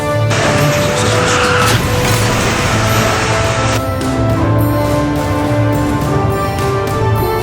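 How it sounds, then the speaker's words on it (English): A speeding Tesla roars along, then a sudden loud impact and scraping noise as it hits a deer, followed by the engine humming on steadily. "The Tesla collided with a deer,"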